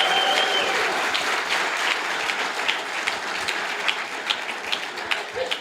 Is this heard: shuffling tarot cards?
no